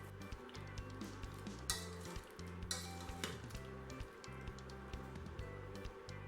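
Milk, sugar, a pinch of salt and vanilla being stirred in a pot, with quiet, steady scraping and clinking of a utensil against the pot and a faint background hum, low in level and alone.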